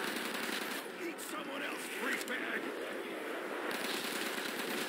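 Continuous rapid automatic gunfire rattles through a custom zombies map in World at War, a loud, dense stream of shots running the whole way with a voice faintly underneath.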